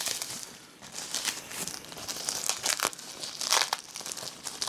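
Wrapped packaging around a carbon-fibre rear diffuser for a Tesla Model 3 is pulled and torn open, giving steady close crinkling and crackling of plastic and paper with sharper tearing bursts throughout, no talk.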